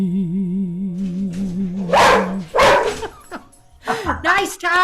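A dog barks and yips loudly at close range in a few sharp bursts, right after a sustained, wavering sung note carried over a Zoom call.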